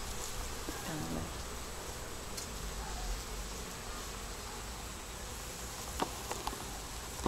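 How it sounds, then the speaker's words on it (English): Honey bees swarm around the base of a hive in a dense, steady buzzing drone that fills the scene, continuous and even in level with a few faint clicks. "the rest of the bees are carrying on their business,"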